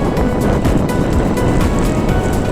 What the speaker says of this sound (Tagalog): maririnig mo nga yung lagasgas ng mga alon